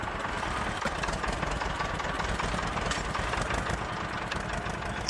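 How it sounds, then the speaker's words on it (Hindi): Tractor engine in an Indian tractor video game runs at a steady, rough, knocking idle, a continuous close low rumble with no talking. "ये चला अपना ट्रैक्टर।"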